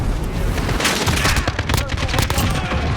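An RPD light machine gun in Call of Duty Modern Warfare on the Shipment map fires in loud, rapid, continuous bursts with booming impacts, and a voice talks over the shooting.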